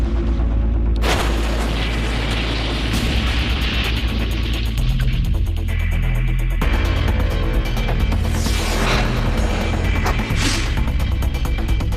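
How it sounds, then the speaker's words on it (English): A car with a mannequin inside is blown apart by an explosive charge, giving a sustained, loud roaring boom and rumble with sharp bursts and crackling debris over about twelve seconds. "The explosion ripped through the metal, completely destroying the interior and outer frame."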